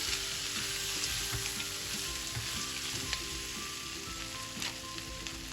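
Chicken pieces being stirred and fried in a pan: a steady, dense sizzle with scattered crackles and occasional scraping stirs, close and continuous, with no voices.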